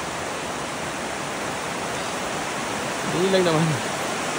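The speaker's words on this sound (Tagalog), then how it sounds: "Wow. Napakaganda ng falls." A waterfall in Ayusai National Park, Kazakhstan, roars as a steady, even wall of rushing water that fills the scene from start to finish. A voice speaks briefly near the end over the constant noise.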